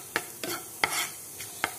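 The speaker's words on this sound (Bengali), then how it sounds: "এখন আমি এটাকে একটু ভালো করে ভেজে নেব।" Three cloves, three cardamom pods and two pieces of cinnamon fry briefly in oil for a fish kofta curry. A spoon stirs and taps the pan in five quick, distinct strokes over a faint sizzle.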